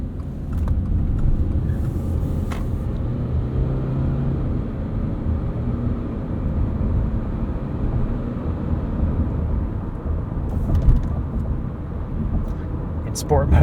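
Steady low road and engine rumble inside a 2024 Subaru Crosstrek Premium as it drives, a continuous close drone running the whole time beneath constant talking.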